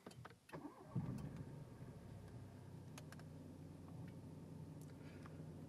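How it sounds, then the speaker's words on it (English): A Ford Focus EcoBoost engine cranks briefly and catches, then settles into a steady, moderately loud idle with no one talking. "And then we'll start the car."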